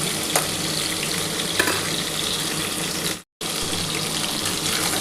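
Potato and pointed gourd pieces fry in oil in a pan, a loud, steady sizzle that runs without pause except for one brief dropout, with no voices.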